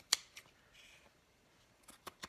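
Scissors trim paper snippets for a small handmade flip-up journal: a few sharp, close snips, one crisp cut followed by quieter ones and a short burst of three near the end, in a quiet room.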